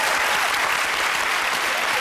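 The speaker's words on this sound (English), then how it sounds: "Can we have a round of applause, please?" A studio audience on a comedy panel show breaks into loud, sustained applause, a dense wash of clapping that fills the whole moment at steady volume.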